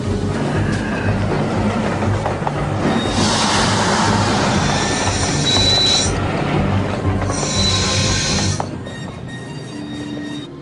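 A train rumbles past on the rails, loud and close, with bright metallic wheel squeals rising midway before the noise drops off near the end.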